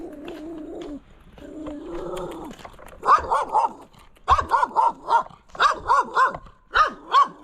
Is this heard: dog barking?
yes